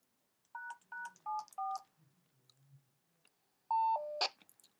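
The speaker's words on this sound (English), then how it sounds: "which I have my own 3-digit security code, which I'll enter." A short series of four touch-tone keypad beeps, then a pause and a couple more tones, quiet and close with soft handling noises between.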